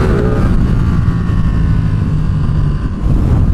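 A motorcycle's stock exhaust drones with a steady, deep rumble up close, loud and continuous with no talking.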